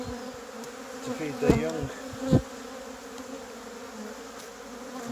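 Honey bees swarm and hum around a strong colony at an apiary, a dense continuous buzz with a few close passes flaring louder, while a voice speaks briefly over the drone.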